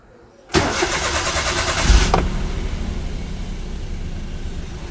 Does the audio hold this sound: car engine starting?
yes